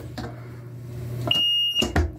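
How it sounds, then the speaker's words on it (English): A sump pump's high-water alarm, set off by a float when water rises and the pump isn't pumping, gives one loud, shrill electronic beep of about half a second between duller clunks. "you could hear, it's high water alarm"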